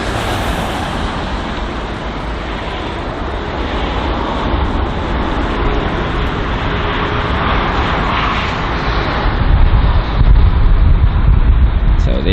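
Aircraft at London Heathrow airport roar steadily under a broad wash of engine and traffic noise, swelling louder toward the end as a plane passes nearby.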